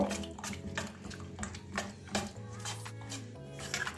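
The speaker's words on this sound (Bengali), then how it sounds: "চামচ দিয়ে ভালো করে ফিটিয়ে নেব" A spoon beats thick bottle gourd batter in a bowl, giving quick repeated clacking and squelching strokes against the sides, close and fairly loud, with a low background hum.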